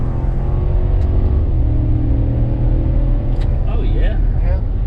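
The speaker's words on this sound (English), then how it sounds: "I like the sound. It's got a V8" A 2022 Wagoneer Series II with a Hemi V8 in sport mode accelerates on the road, its low engine rumble loud and steady inside the cabin with a rising tone near the end.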